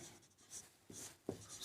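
Writing during a Class 10 maths lesson on cone surface area, heard as a few faint, brief scratchy strokes in a quiet room with no talking.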